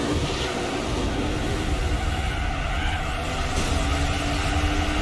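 BMW M3 GTR race car engine in Gran Turismo 4, a steady loud roar holding a continuous drone with a low rumble throughout, no pauses, no voices.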